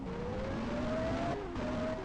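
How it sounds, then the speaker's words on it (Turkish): A Lamborghini Aventador engine in the Car Parking Multiplayer video game drones and revs steadily, its pitch climbing, briefly dropping, then rising again, with no talking. "Aventador'un sesi gerçekten hoşuma gitti."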